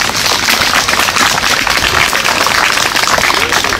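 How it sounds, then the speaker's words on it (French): Audience clapping steadily at an outdoor medieval crafts festival by a pond, a dense, loud wash of many hands sustained throughout with no pauses. "Applaudissez bien fort quand même."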